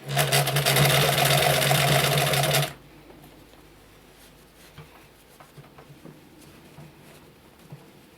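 A sewing machine stitching quilting cotton for a scrunchie runs loud and steady for a couple of seconds, then stops, leaving quiet fabric handling and faint rustling.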